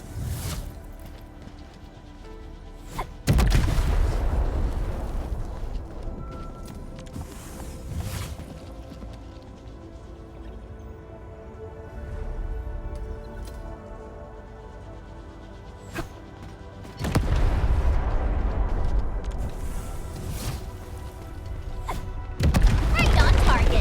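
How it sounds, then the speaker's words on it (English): Explosions from the video game Arknights Endfield, several heavy booming blasts at intervals with low rumbling impacts, loud against a steady game soundtrack. "I give that explosion a 10 out of 10."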